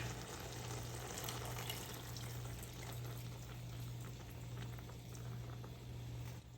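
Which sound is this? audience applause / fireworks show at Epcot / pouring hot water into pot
pouring hot water into pot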